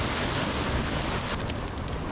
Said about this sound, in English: this is as heavy as the rain is going to get today, which is really just a drizzle